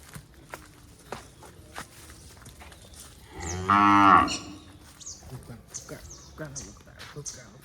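A cow lets out one loud, drawn-out moo nearby, with people talking and scattered footsteps before and after.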